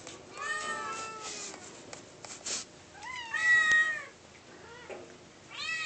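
A blue-eyed cat meows repeatedly at close range, several drawn-out rising and falling calls spaced across the moment with short pauses, no talking over them.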